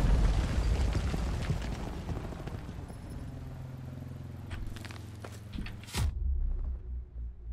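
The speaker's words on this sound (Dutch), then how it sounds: "Dat was een explosief." A single sharp explosive blast in a video game sounds near the end, a sudden loud broadband crack with a short rumbling tail, following a stretch of busy game noise and low rumbling.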